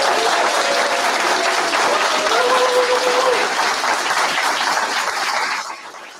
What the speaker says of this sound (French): on peut tous applaudir l'équipe de régie aussi qui va assurer